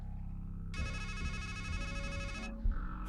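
A phone rings in the video game Strangeland, a bright electronic ringtone that sounds for about two seconds over a low droning game ambience.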